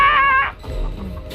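A chasing chicken in the Chicken Feet video game lets out a short, loud, strained squawk, followed by low rustling game noise.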